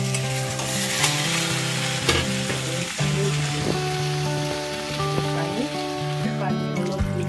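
Paneer and pumpkin curry sizzles and fries steadily in a pan, with a continuous hiss and occasional stirring scrapes throughout, fairly loud and close, with a few faint tonal background sounds.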